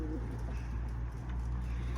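Homing pigeons coo softly and repeatedly inside an office rooftop coop, close by, over a steady low hum.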